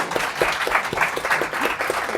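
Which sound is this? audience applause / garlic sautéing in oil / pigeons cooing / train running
audience applause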